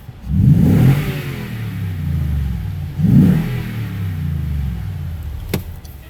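A Toyota Tundra V8 fitted with a new TRD exhaust revs twice, recorded up close with the windows down. Each rev is a rising roar that settles back into a low idle rumble, and a short click comes near the end.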